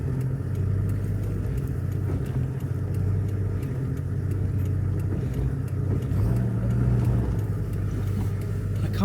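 A vehicle's wheels spin without grip on mud-caked Maxtrax recovery boards whose tyres have turned slick, on Sowa Pan during an Africa expedition. A loud, steady engine drone and low rumble continue unbroken throughout.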